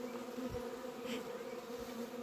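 Honeybees flying thickly around the hive during an orientation flight of young bees, a dense continuous buzzing drone with individual bees passing close.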